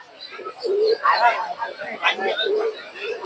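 Giribaj pigeons cooing at a rural bird market in Madhabdi, a few soft low coos rising through a busy crowd murmur with people talking nearby.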